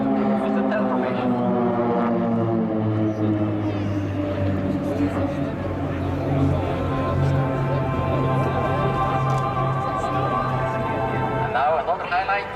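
Swiss Air Force PC-7 propeller aircraft fly in formation at the Sanicole international airshow, giving a loud, steady, layered engine drone that swells slightly as they pass and holds for the whole stretch.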